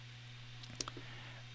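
A single quick click from the lap button on a Polar sports watch, a faint, close, brief tap over a low steady hum.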